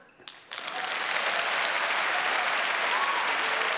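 Audience applause at a live stand-up comedy show fills the room, starting with a few scattered claps and then swelling into steady, sustained clapping from the crowd.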